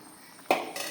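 Curry poured from one pot into another, a sharp metallic clink of cookware midway, then a softer scrape and clatter, close and brief.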